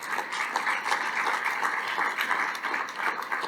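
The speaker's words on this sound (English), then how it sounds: "A round of applause to the room once again, please." Audience applause in a room at an Urban League annual dinner, a dense, steady wash of many hands clapping that holds at an even level for a few seconds, with no voices over it.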